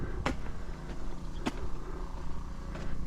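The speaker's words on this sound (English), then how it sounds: "Just the odd car coming past." A few cars pass on a quiet countryside road near the Naxxar windmill in Malta, heard as soft, fairly distant swells of tyre and engine noise over a steady background hum, with brief sharper transients between them.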